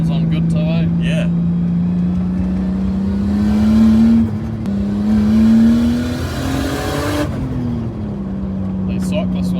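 A Nissan Skyline R32 street car with a turbo accelerates, its engine droning steadily and rising in pitch through the gears from inside the cabin, with a brief dip between shifts and people talking over it.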